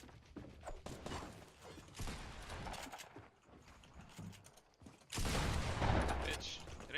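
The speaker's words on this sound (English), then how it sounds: "I'm getting shot from behind." Gunfire in the Fortnite Battle Royale video game comes as quick volleys of shots, fairly soft at first and then breaking into a louder sustained burst near the end.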